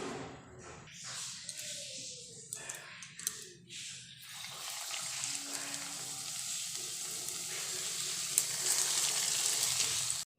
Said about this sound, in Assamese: এতিয়া মই কেৰাহীত তেল গৰম দিছোঁ এতিয়া ভাজি লম